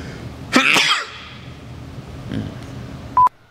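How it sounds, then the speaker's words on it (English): One sharp, close sneeze bursts out abruptly, followed by quiet room noise and a brief electronic beep. "I'm gonna sneeze."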